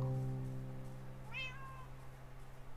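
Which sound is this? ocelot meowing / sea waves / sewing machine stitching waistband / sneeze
ocelot meowing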